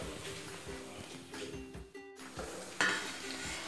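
Milk heats in a pot on the stove for kheer, with a soft, steady simmering sizzle and rhythmic scraping from stirring, fairly faint and continuous.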